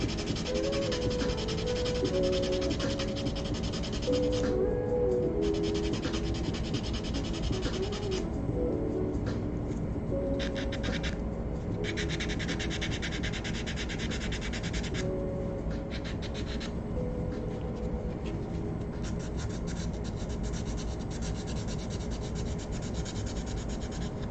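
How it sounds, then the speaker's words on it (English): Steady back-and-forth rasping of a nail file sanding down a sculpture, continuous scratchy rubbing strokes close up with short pauses, heard alone without talk. "this nail file actually does a better job of sanding it down quickly and smoothly"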